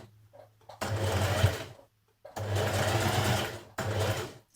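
Sewing machine stitching a seam on a Burda 6053 cardigan, running in three steady bursts separated by short pauses, close and fairly loud with a low motor hum throughout.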